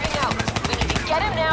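Rapid automatic gunfire from the Black Ops 3 video game, a fast, loud burst of close shots lasting over a second before fading into game effects, with a brief voice underneath.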